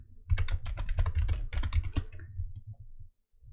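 Close, quick keystrokes rattle on a computer keyboard as text is typed in Adobe Illustrator, a short burst of clicks that trails off into quiet.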